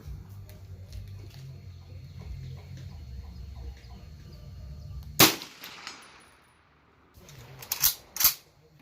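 Auto Ordnance M1 Carbine firing .30 Carbine rounds outdoors: a single sharp, loud shot cuts through background rustle and distant birds, followed by a quieter stretch, then two more sharp reports in quick succession near the end.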